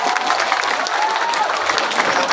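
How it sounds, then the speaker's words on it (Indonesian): A crowd at a national dialogue gathering with presidential candidates in Tuban applauds steadily, a dense sustained clapping with a faint voice briefly rising over it. "Ketua Nasdem Tuban, Wakil Bupati Tuban, tepuk tangan"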